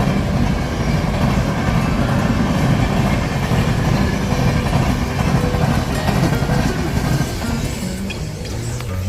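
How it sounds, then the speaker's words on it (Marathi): A train rumbles steadily along the rails near Kasara, a continuous loud low roar with faint rhythmic clatter from the wheels, no voices. "बसून मस्त आम्ही ट्रेनची मजा घेतोय"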